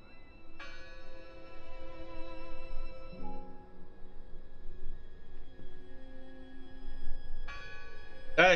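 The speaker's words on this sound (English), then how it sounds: "I heard the bell." Bell ringing inside the horror video game Draugen: sustained tonal peals that swell, fade and return over a dim ambient game soundscape, moderately loud with no talking.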